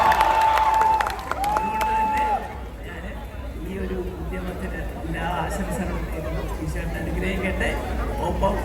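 A crowd at the Kalyan Silks showroom opening in Kollam, inaugurated by Prithviraj Sukumaran, claps and cheers in a sustained busy wash, with voices and chatter over and around it.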